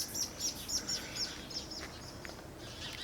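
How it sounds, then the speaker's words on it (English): A little owl calling outdoors: a series of short, high, sharp yelping notes repeating in the first half, fairly faint over steady background noise. "did you hear that? That was the little owl is flying about, attacking everything"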